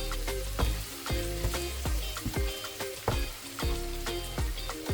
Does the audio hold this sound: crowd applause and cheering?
no